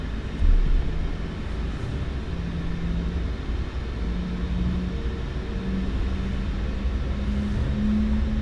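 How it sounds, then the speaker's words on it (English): Jet engines of a Boeing 737 MAX in a flight simulator spool up for takeoff, a steady low roar with rising tonal whine lines building gradually, heard from inside the cockpit without talk. "Set takeoff thrust"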